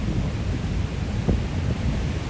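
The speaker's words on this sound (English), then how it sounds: "it's raining out here" Steady outdoor rain hisses in a dense, even wash, with a brief low thud of thunder partway through.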